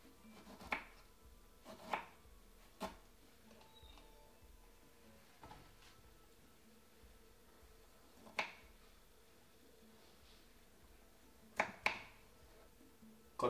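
Scattered knife taps on a cutting board while finely chopping lemon, several sharp chops spaced irregularly, heard faintly against a quiet room background.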